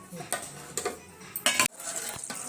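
Metal cookware clinks and clatters in a kitchen, with a sharp lid-like clank near the middle as a lid goes onto a pot of simmering ivy gourd curry; several close, separate knocks over a quiet background.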